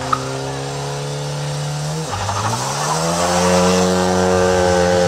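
A Renault Clio Rally 4 small-displacement rally car holds a steady, loud engine drone, dips as it shifts or slows midway, then climbs again under acceleration on a rally stage.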